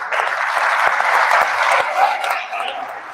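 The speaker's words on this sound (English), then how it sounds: "I want to give a big round of applause to Stone for helping us to judge" Audience at a live XRP Las Vegas Shark Tank pitch event breaks into a round of applause, a steady dense wash of clapping with scattered sharp claps, sustained evenly throughout at moderate loudness.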